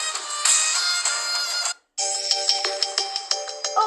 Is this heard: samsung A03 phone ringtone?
yes